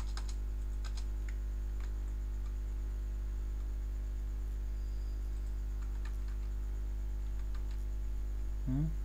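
Sparse, faint computer keyboard clicks, including a tab key press, sit over a constant low electrical hum, with a few isolated taps and a brief extra click near the end.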